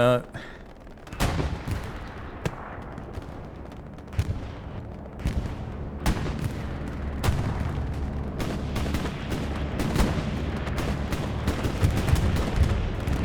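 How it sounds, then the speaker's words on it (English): Bombing run explosions in the Hell Let Loose video game: repeated heavy booms and gunfire crackle in close succession, loud and building over several seconds with scattered sharp blasts. "bombing runs coming in"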